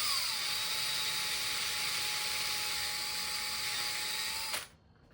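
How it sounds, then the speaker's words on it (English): A power drill whines steadily at close range for several seconds while drilling holes for a bonsai, then cuts off abruptly near the end, leaving quiet. "basically you drill some holes"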